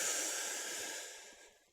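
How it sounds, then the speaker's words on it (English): Slow, deep breath drawn into the bottom of the belly during a guided relaxation exercise, a soft airy hiss close to the mic that gradually fades out, heard alone. "Breathing into the bottom of the belly."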